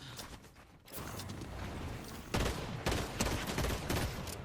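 Pistol gunfire in Fortnite, a match from the FNCS competitive final, heard as bursts of sharp shots and mechanical clatter amid busy game noise, moderately loud with no talk.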